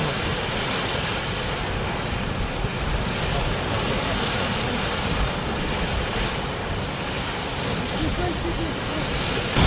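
A geyser erupts in the Valley of Geysers, Russia, a steady loud roaring rush of water and steam that fills the scene without pause, with wind buffeting the microphone.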